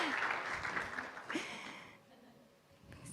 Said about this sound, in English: So applause for Andrea Carreiro from Felt